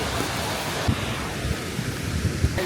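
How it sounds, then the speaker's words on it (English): Steady roaring rush of a waterfall in Croatia, a continuous broadband wash with a few low thumps, loud and close. "Look how beautiful it is. It's really noisy."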